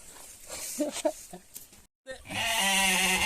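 After some rustling and a brief pause, a lamb lets out a loud, sustained bleat close by.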